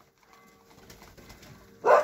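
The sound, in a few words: pigeons cooing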